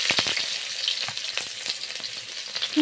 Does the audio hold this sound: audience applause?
no